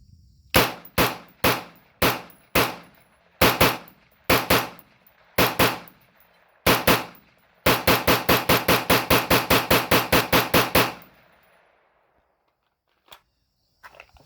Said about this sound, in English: Do a little mag dump here.